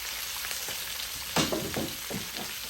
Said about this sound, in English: Stir it up all that good, nice, good together.